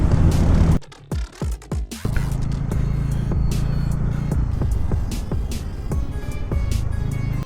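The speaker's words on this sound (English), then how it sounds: "I must overtake this truck, otherwise we will be get stuck behind it." A vehicle on the highway near Tiruchirappalli overtakes a truck, wind buffeting, then a steady, loud road and engine roar with occasional clicks and knocks as it passes.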